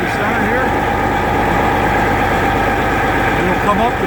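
A marine booster pump's diesel engine runs loud and close with a steady throbbing drone that builds slightly as it comes up in speed, with someone talking over it.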